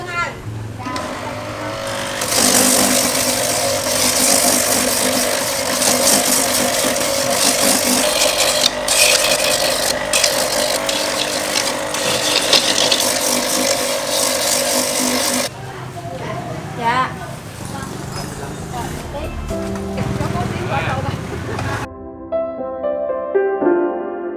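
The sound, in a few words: machine grinding old coconuts into shavings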